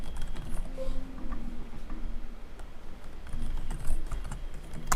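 A password being typed on a computer keyboard: a quick, irregular patter of close key clicks over a low background hum, with no one speaking.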